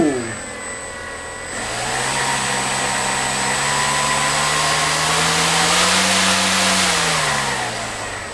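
The electric motor on a pool-noodle RC 3D trainer airplane whines up from rest under slight throttle, rising in pitch over about a second and a half, then holds a steady, close buzzing drone that drifts slightly up and back down.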